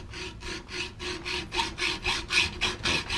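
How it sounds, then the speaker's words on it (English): A hacksaw cuts through a metal torque rod in a steady back-and-forth rhythm, about a dozen rasping strokes close up, with no talking. "I'm using a hacksaw because don't want to get the grinder out."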